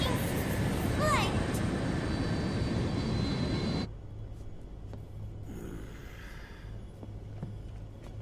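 Aircraft cabin engine drone in the Metal Gear Solid 4 video game: a loud, steady roar fills the first four seconds, then drops to a quieter muffled hum, with speech over it.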